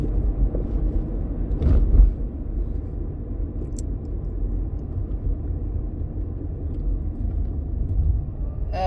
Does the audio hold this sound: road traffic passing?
yes